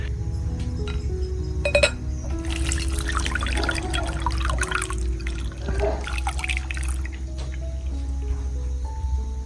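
Cooled liquid plant solution made with milk, poured through a filter, giving a steady trickle with light drips and glassy clinks over a constant low hum.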